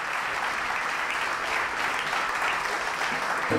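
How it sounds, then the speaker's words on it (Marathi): A church congregation applauds together, a dense, even wash of clapping that holds steady throughout. "Give a big clap to Jesus."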